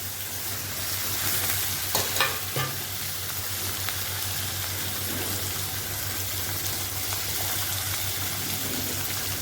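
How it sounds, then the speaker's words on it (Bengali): Chopped onions frying with garlic and garam masala, a close, continuous sizzle with stirring scrapes and a couple of clunks over a low steady hum. "এখন এটাকে একটু ভাজা ভাজা করতে থাকি"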